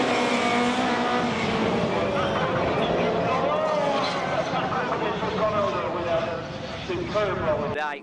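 Dirt track race cars roaring around the circuit, engines whining and revving in a continuous mid-distance drone, heard under a commentator's running talk.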